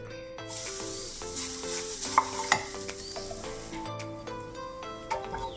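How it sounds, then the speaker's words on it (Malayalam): Grated coconut roasting in a pan with black pepper, cardamom, cloves and cinnamon for a chicken curry, a soft sizzle under repeated stirring scrapes and a few sharp clacks against the pan; no talking. "ഒരു ടീസ്പൂൺ കുരുമുളക് നാല് ഏലയ്ക്ക ഗ്രാമ്പു രണ്ടെണ്ണം കറുവപ്പട്ട രണ്ടെണ്ണം ഇട്ട് നമുക്കൊന്ന് തേങ്ങ വറക്കാം"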